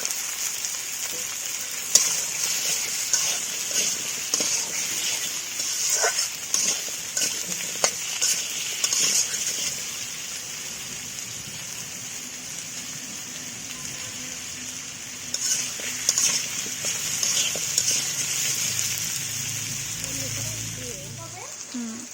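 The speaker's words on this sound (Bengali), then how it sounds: "পেঁয়াজ আর আলু একসাথে ভেজে নিব।" Potatoes and onions fry together in a pan with a constant hissing sizzle and occasional scrapes of stirring, holding steady for over twenty seconds.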